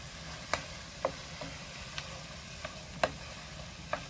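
Huevos ahogados sauce sizzles steadily in a pan while being stirred, a continuous hiss broken by a handful of sharp utensil taps against the pan at irregular intervals.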